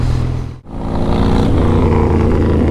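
A 2005 Harley-Davidson Super Glide motorcycle is ridden with its engine rumbling loud and steady, dipping briefly before surging back to a continuous, close drone.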